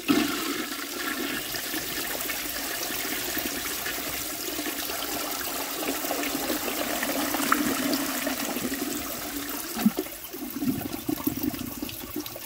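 A 1905 forward-trap toilet flushes with a loud, steady rush of water that churns for about ten seconds, then gurgles and trails off into a refilling trickle.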